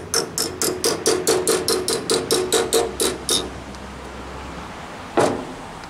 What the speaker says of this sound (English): Just going to tap that on.